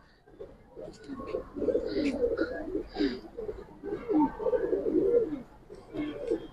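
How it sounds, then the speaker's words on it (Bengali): Pigeons coo steadily in a loft, several soft rolling calls overlapping in repeated bursts, fairly close, with a voice briefly heard among them. "শাওন ভাই বিশেষ করে এই কবুতরগুলো একটু ভালো করে দেখেন ভাই"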